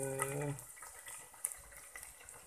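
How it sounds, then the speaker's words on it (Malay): Onions sizzle and crackle in hot oil in a pan, a steady frying hiss with a few small pops, preceded by a brief tonal note at the start. "Kasih tumis dulu bawang"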